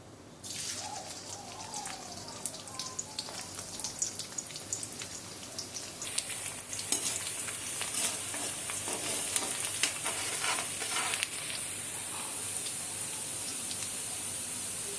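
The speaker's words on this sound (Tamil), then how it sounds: "ஒரு மீடியம் சைஸ் வெங்காயத்தை பொடியாக நறுக்கி எண்ணெயில் போட்டுக்கலாம்" Steady oil sizzle of chopped onions frying in a pan for masala chicken, loud and close, with occasional stirring scrapes and crackles, no voices.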